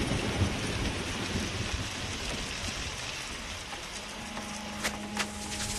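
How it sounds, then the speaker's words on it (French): Steady rain hisses over a surface throughout, with low rumbling that fits distant thunder and a few soft knocks and taps near the end. "Il pleut."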